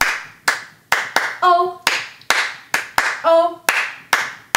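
Children clap hands in time to the Bingo song, with about ten sharp claps falling in groups of five, close and loud. Short bursts of singing come in between the clap groups.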